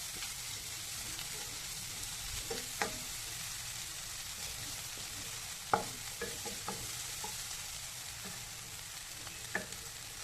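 Egg burji being scrambled, chopped and stir-fried in a pan, with a steady soft sizzle and a few light spatula scrapes and taps, close up with no talking.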